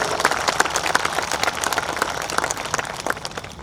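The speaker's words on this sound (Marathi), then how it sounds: "इथे बसलेल्या सगळ्यांनी त्यांच्यासाठी एकदा टाळ्या वाजवल्या" Hall audience at a Hindu gathering in Pimpri Chinchwad applauding, a dense, even wash of many hands clapping for several seconds, slowly fading toward the end, with no talk.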